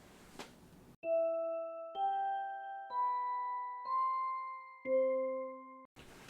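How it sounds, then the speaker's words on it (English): Sweet Bell mallet instrument in GarageBand on iPhone or iPad plays five clear, ringing bell-like notes in slow succession, each struck cleanly and sustaining until the next, rising gently then settling lower. "there's this sound called Sweet Bell."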